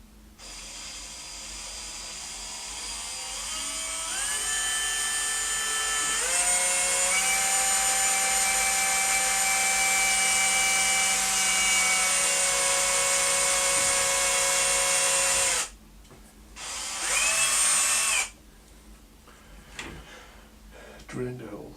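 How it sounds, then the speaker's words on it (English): A drill bores holes into a Warmoth guitar neck, a steady high whine that climbs in pitch as it spins up, runs for long stretches, then cuts out and returns for shorter bursts. "drilling the holes."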